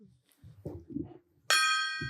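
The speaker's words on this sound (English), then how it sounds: "Randy, hit that gong for me" A gong is struck once, loud and close, its bright shimmering ring hanging and slowly fading after a moment of low murmuring voices.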